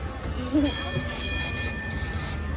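Ride-on train rolling through a shopping mall at Central Salaya, a steady low rumble with faint tonal squeals and hum, heard up close in an echoing indoor space, with a brief voice and soft mall chatter underneath.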